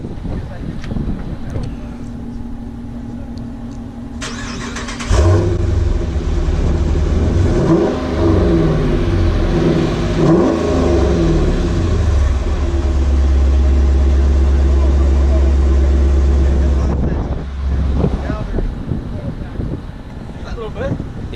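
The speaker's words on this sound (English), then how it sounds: "It's got the Mopar Stage 1 catback exhaust and the cold air intake." A car with a Mopar Stage 1 catback exhaust and cold air intake revs loudly at a car meet, a deep sustained engine roar under wind noise, with people talking before and after.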